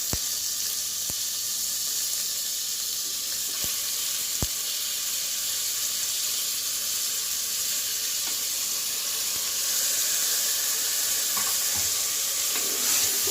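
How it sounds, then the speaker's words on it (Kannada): Ginger garlic paste and tomato frying in a pan for mutton curry make a loud, steady, hissing sizzle throughout, with a few sharp clicks and light scraping near the close and no voices. "ಇದು ಶುಂಠಿ ಬೆಳ್ಳುಳ್ಳಿ ಪೇಸ್ಟ್ ಫ್ರೈ ಆದಮೇಲೆ ಟೊಮೆಟೊ ಹಾಕಿ ಫ್ರೆಂಡ್ಸ್"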